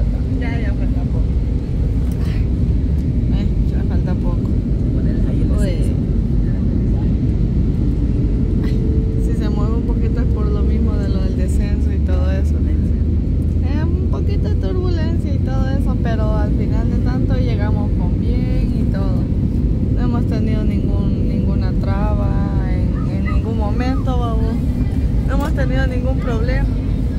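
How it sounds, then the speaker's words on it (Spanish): Steady airplane cabin drone during descent before landing in Cancún, a continuous loud low rumble throughout, with people talking over it. "ya casi vamos a aterrizar"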